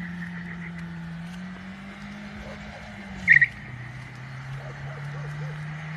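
A car engine drones steadily in a video game, dropping in pitch as it shifts, with a brief tire squeal midway and faint background noise.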